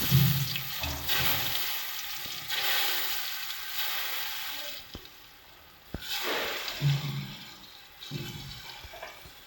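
Salted, turmeric-coated pointed gourd (potol) pieces frying in hot oil, a steady close sizzle with bursts of crackle and a few light utensil knocks.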